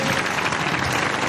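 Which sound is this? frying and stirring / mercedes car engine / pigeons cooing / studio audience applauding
studio audience applauding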